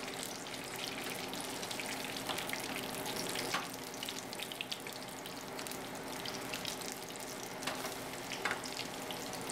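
Breaded fish fries in a pan with a steady, dense sizzle that carries on unbroken throughout, with small crackles and pops scattered on top, close up and with no talking.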